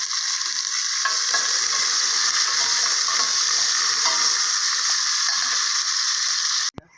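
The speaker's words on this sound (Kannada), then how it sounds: "ಹಾಕಿ ಚೆನ್ನಾಗಿ ಫ್ರೈ ಮಾಡ್ಕೊಳ್ಳೋಣ." Fennel, cumin, shahi jeera, bay leaf, cinnamon, cloves, onion and green chillies fry for a mutton biryani with a loud, steady close sizzle and repeated scraping stirs, ending abruptly with a knock.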